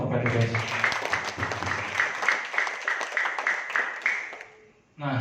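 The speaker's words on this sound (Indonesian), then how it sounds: "Tepuk tangan dong untuk PTBS." Audience applause at a PT BEST marketing-plan presentation in Bandung, a dense wash of clapping with voices mixed in, running steadily for several seconds before breaking off sharply near the end.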